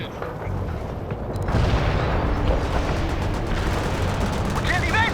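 Artillery guns fire in the World in Conflict strategy game, booming blasts and rumbling battle noise that grow louder after a quieter start, with game voices talking over the fighting.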